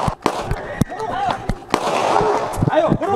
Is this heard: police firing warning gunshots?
yes